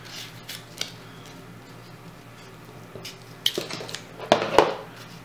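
Scissors trimming the untaped paper edges off a handmade bob-omb craft base, a few quiet snips early, then sharper louder cutting and crinkling near the end, with no talking.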